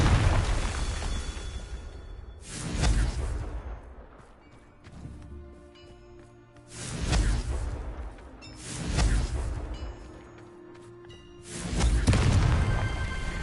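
Repeated Confringo blasting-spell explosions in the video game Hogwarts Legacy, four loud booming bursts spaced a few seconds apart, each with a sharp crack and rumbling tail, no talking.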